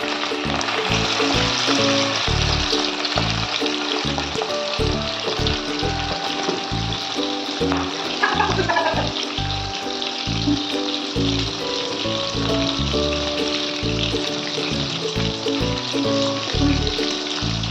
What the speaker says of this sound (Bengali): এইভাবে আমি চিকেনগুলোকে ভেজে একটা থালায় তুলে রাখলাম।